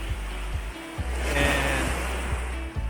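Ocean waves roll at Bagbag beach in Sual, Pangasinan, as a steady surf wash with wind, heard near and fairly loud for a few seconds.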